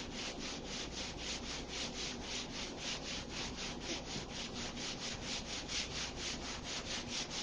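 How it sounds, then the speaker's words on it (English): Paper is rubbed over a painted styrofoam printing plate in quick, even back-and-forth strokes, making a steady, close scratchy swishing rhythm that continues without pause. "rubbing along it so the paint picks up from the styrofoam plate"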